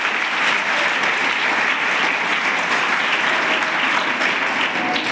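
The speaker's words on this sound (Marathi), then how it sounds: "चला टाळ्या वाजवा याच्यासाठी" A large audience claps loudly and continuously, a dense, even roar of applause sustained from start to finish without pause.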